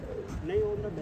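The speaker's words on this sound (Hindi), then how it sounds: "इनका भी कबूतर सामने है, अपना भी कबूतर सामने है जी" Soft pigeon cooing, a low rolling coo rising briefly in the middle, with a rumble of strong wind and another voice murmuring underneath.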